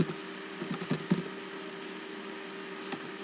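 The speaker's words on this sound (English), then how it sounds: "I'll type here compressor.io" Keys on a computer keyboard clack in a brief, uneven burst of a few quick strokes, then a lone tap later, close and moderately quiet over a constant electrical hum.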